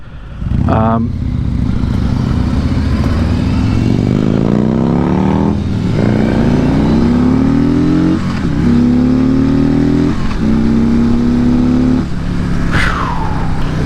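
A 2020 Harley-Davidson Ultra Limited touring motorcycle accelerates hard and loud up close, its engine note climbing steadily through several gear changes with brief dips between them, under a constant rush of wind.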